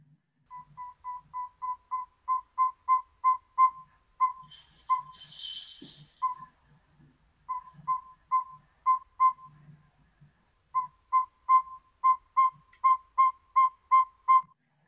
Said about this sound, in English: that was the 7 most common species of owls that we have here in this state of Nevada